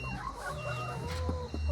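Laying hens on an integrated farm, some of them sick, cluck and murmur close by in a continuous busy chorus, with no talking.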